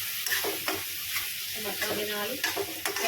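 Masala paste with chilli and garam masala cooking in oil for a taro root curry, a close sizzle broken by repeated stirring scrapes and spoon taps.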